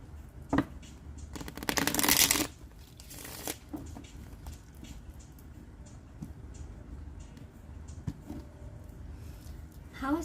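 Tarot cards being shuffled by hand, with a burst of riffling near the start and softer card handling afterward, fairly close and quiet.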